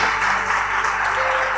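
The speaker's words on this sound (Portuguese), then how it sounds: "aplauda mais uma vez o Rei" A church congregation applauds in praise at a sermon, a steady, dense wash of clapping that holds at even loudness throughout, with no voices over it.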